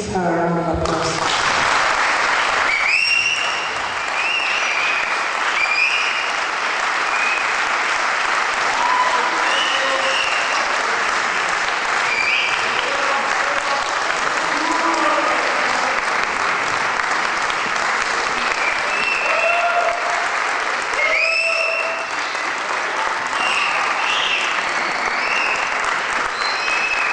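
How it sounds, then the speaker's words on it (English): Sustained applause from an audience at a charity event fills the hall, a dense, steady clapping that starts abruptly and continues loudly for nearly half a minute. "Please give her a round of applause"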